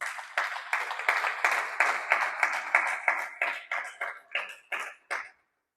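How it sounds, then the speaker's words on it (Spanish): A church congregation claps in rhythm for about five seconds, a run of sharp, evenly spaced beats that slows and thins out before stopping. "¿Cuántos dan un aplauso al Señor?"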